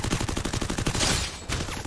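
Rapid automatic gunfire in the Free Fire video game, a fast, evenly spaced string of loud shots followed by a brief pause and another short burst.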